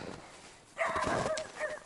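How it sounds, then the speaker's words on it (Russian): Dog barking outdoors near a village while a motorized snow tow vehicle is being run in; a few sharp barks start partway through, moderately close, mixed with other noise. "Собака лает, караван идет."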